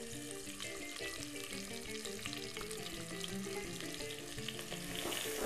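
Onion frying in a pan after the meat has been browned on both sides for an Algerian egg-nest tajine, a steady, even sizzle running throughout with a faint rise near the end, no talk.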